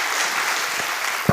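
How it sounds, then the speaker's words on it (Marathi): An audience at a clinic's ninth-anniversary event applauds, a dense, loud burst of steady clapping heard up close. "आणि एकदा जोरदार टाळ्या साने सरांसाठी."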